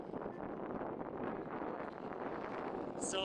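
A sailboat running downwind on its genoa at about 4.5 knots off Rügen in north-east Germany, carrying a steady rush of wind and water, with a faint high chirp at the very end.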